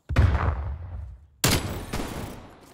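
Video-game shotgun blasts in a Search and Destroy match, one heavy boom, a second sharp blast about 1.3 seconds later, then a third, each with a rumbling tail, loud and close.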